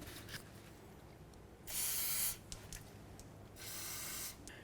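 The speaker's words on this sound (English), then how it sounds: "I'm just going to spray down these areas with some penetrant spray" Two short bursts of aerosol penetrant spray hiss loudly, each lasting about half a second, separated by quiet clicks and handling noises, while spraying tie rod areas on a 2008-12 Chevy Malibu.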